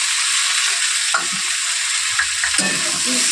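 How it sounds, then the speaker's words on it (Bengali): Tomato and chopped green chili sizzle loudly in oil in a frying pan for a mixed vegetable dish, a steady close hiss broken by a few scraping stirs and light clinks, with no talk. "এবার দিয়ে দেবো টমেটোটা একটু বেশি টমেটো দেবেন আর দিয়ে দেবো কাঁচা লঙ্কা কুচি"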